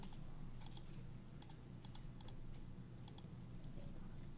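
Computer keyboard typing with scattered key clicks, a few quick bursts of taps repeating through the clip over a steady background hum, close and fairly quiet.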